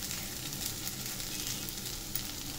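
Taro root (arbi) sabzi fries crisp in a pan, giving a steady close hiss and sizzle of hot oil that runs without pause and without voices.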